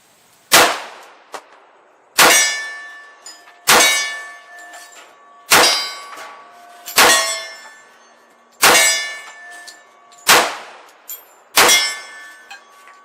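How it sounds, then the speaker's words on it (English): Shots from a 1911 pistol, eight spaced reports, each followed by the bright ringing clang of a steel target at 20 yards outdoors, loud with no voices. "I'm just going to do some target practice with this 1911 while we're out here"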